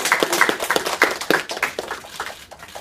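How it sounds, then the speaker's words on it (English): Children at a school clap together in a loose, uneven burst of hand claps, fairly close and lively, with faint voices mixed in. "Boys and girls, can we give this hyphen a big round of applause?"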